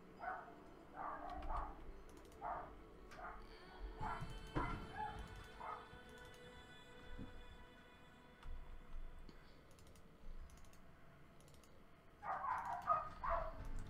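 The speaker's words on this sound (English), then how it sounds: "I'm gonna mute for a minute while the dogs are going crazy" Dogs barking in short bursts at a moderate distance, several separate yips and barks in clusters at the start and a busier flurry near the end, over a low room hum with occasional faint clicks.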